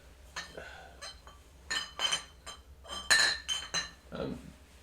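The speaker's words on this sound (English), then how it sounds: "clinking and clanking, trying to find a new bottle" Glass bottles clink and clank together in a series of sharp, bright knocks and rattles as someone rummages for a new bottle, close and fairly loud, with no talking.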